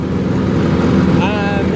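A tractor mowing fence rows, its engine a loud, steady close drone with a rising whine near the end.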